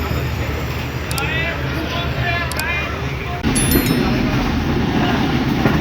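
Tezgam Express passenger train running between Karachi and Lahore, heard from on board as a steady loud rumble of wheels and carriage noise, with a faint muffled voice and a brief squeal above it.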